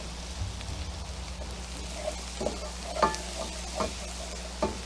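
Flour cooking in a pan for cream of broccoli soup, a faint steady sizzle with a few soft scraping stirs and light taps from a utensil.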